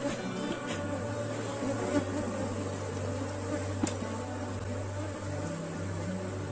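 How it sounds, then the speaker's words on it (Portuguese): Many honeybees buzzing around beehive boxes, a dense continuous drone with individual bees passing close by, steady and moderately loud with no talk. "Olha só como ainda tem muitas abelhas."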